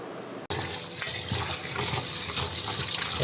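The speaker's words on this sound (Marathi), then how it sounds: "मस्त असं स्वच्छ धुवून घ्यायचं" Running tap water splashing over raw chicken being washed in a sink, a steady close gush that starts abruptly and continues with small splashes, no voices.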